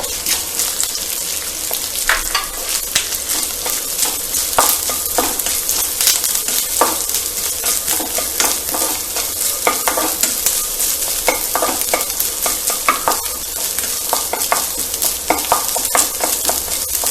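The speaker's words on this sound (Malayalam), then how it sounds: "ഈ പാനിലേക്ക് തന്നെ ഒരല്പം എണ്ണ ഒഴിച്ചിട്ട്, ഒത്തിരി ഒന്നും വേണ്ട, കുറച്ച് എണ്ണ ഒഴിച്ചിട്ട് നമുക്ക് ആ തേങ്ങാക്കൊത്തൊന്ന് വറുത്തെടുക്കാം" Coconut pieces fry in a little oil in a pan, giving a steady close sizzle broken by frequent scraping stirs and clicks throughout, with no talking.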